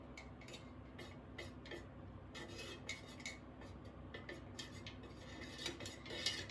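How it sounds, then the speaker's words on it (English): Melted candle wax is stirred in a pot for a layered scented candle, heard as faint, quick, repeated metallic ticks and scrapes over a quiet background hum. "we're gonna go ahead and stir this"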